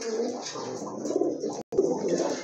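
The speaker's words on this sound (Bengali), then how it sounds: "দেখেন তেজ দেখেন নটটার কতটা আপনার ডাকে মাশাআল্লাহ" Big Indian Bombay pigeons cooing close by, a series of soft throaty coos repeating through the clip with a very brief break near the middle.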